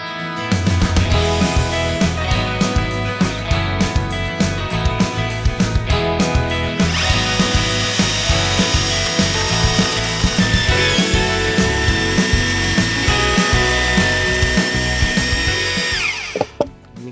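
Saw rips lengthwise through a log about 1.35 m long, a loud, steady, constant-speed cutting whine with a rhythmic mechanical pulse running without pause for about sixteen seconds before stopping abruptly.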